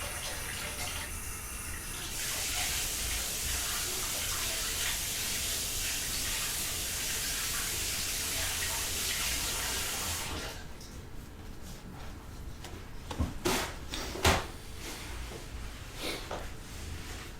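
Water gushes steadily from a tap for about ten seconds as a loud, broadband rush, then cuts off, leaving quieter room sounds with a few sharp knocks and clatters.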